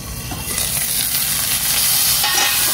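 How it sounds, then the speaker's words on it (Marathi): Pomfret fish frying in hot oil in a pan gives a loud, steady, crackling sizzle that continues without a break. "आपण तेलामध्ये हे सोडूया."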